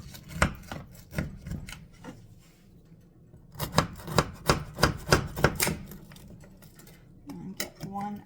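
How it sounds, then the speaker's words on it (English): A knife cuts down into a pan of Rice Krispie treats made with marshmallows and cereal, giving a run of close, rhythmic crunchy chops and scraping strokes with short pauses between them. "I'm just gonna grab a knife. I'm just gonna slice into here."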